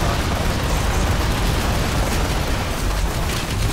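Tank mine explosions in a multiplayer video game, a dense and loud rumbling barrage of booms that runs continuously without a break.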